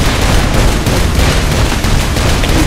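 Rapid, sustained gunfire in Saints Row 4, a dense continuous barrage of shots that stays loud and close throughout without pauses.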